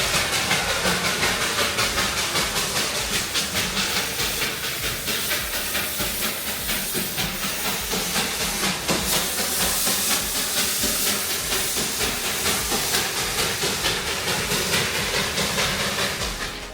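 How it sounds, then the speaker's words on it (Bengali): Darjeeling steam-engine toy train drawing nearer along a narrow-gauge rail line, giving a loud continuous hiss of steam with a faint rhythmic chuffing running through it throughout. "দূরে ধোঁয়া উড়িয়ে গুটি গুটি পায়ে এই সরু রেল লাইন ধরে এগিয়ে আসছে সেই স্টিম ইঞ্জিনওয়ালা টয় ট্রেন"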